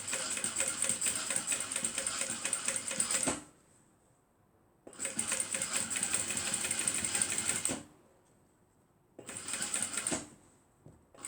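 A sewing machine stitches a zipper handbag in three bursts of fast, even whirring and needle clatter, separated by quiet pauses.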